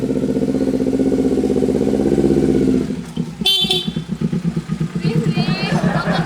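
A new motorcycle engine runs loud and close with a steady throbbing rumble, then settles into uneven idling pulses while a horn-like toot sounds briefly and voices talk over it.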